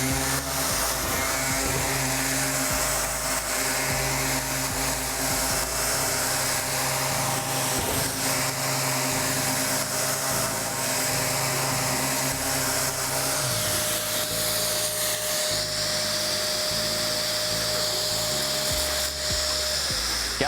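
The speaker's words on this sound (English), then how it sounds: "Turn on your sander." An electric sander works wood with Galaxy abrasive, a steady, loud, continuous motor whir and scrubbing hiss that runs unbroken throughout, with slight shifts in pitch and pressure and no talking.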